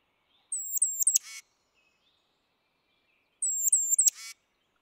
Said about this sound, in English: it's a good comparison for the tufted titmouse, who maybe you've seen this bird, but you didn't know it made calls